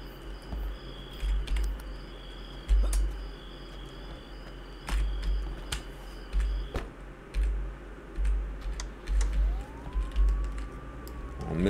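Police car siren in the Contraband Police video game, a faint rising wail late in the clip over steady low game ambience, insect-like chirps and scattered clicks.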